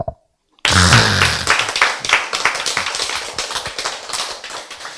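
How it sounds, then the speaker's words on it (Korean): Audience in a Bible lecture hall breaks into loud, sustained clapping right after a short silence, dense and steady for several seconds before thinning slightly toward the end. "박수"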